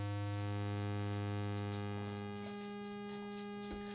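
Endorphin.es Godspeed+ synth module playing its sub-octave output alone: a steady, buzzy low drone with strong harmonics, close and loud, dropping in pitch partway through and holding, with no talk.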